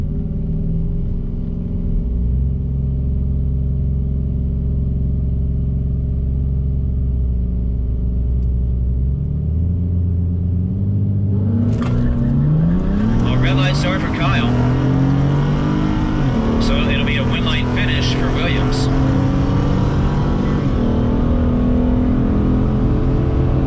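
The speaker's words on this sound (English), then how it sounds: "Ken Kyle in the 2015 Taurus, Logan Williams in the 87 Dakota." Drag race launch between a 2015 Ford Taurus and a 1987 Dodge Dakota, loud engines idling then roaring and revving hard as the cars accelerate off the line, with rising engine pitch and some crowd and announcer voices underneath.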